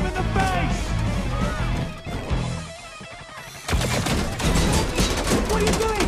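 Gunfire in an animated film action scene, loud bursts of shots and crashing impacts, dropping briefly quiet midway before a dense volley returns, with voices shouting over it.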